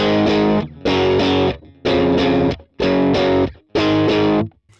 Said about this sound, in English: These cardboard box sounding mids. Super boxy sounding.